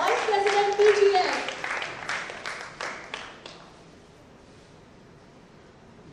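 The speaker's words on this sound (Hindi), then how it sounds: "जोरदार तालियां हो जाए" Applause at an Indian teacher felicitation event with celebrities, a crowd clapping loudly at first, then thinning and fading to quiet within a few seconds.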